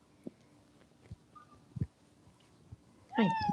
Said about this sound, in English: You can hear him meowing.